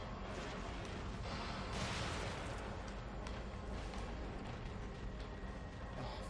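A flash bolt and grenade in the survival horror game The Evil Within, heard as a continuous loud roar of blasts and mechanical crashing that swells briefly midway and holds steady throughout.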